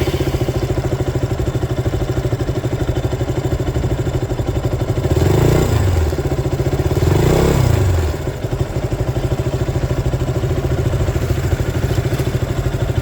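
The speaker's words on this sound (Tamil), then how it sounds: "இப்போ இந்த பைக்கை ஆன் பண்ணி இன்ஜின் சவுண்ட் கேட்கலாம் வாங்க." A KTM Duke 200 motorcycle idles steadily up close in neutral, with two brief throttle blips that swell the deep, bassy engine note before it settles back to a constant idle.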